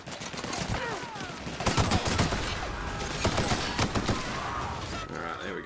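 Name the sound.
gunfire in The Outer Worlds video game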